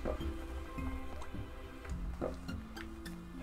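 Water being drunk up close, with wet gulping and swallowing sounds over a steady low hum.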